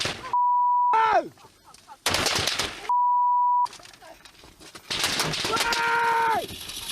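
Gunfire in an ambush: several loud, dense bursts of shots crackle in clusters, separated by steady electronic beeps and falling whistle-like tones, with no talking.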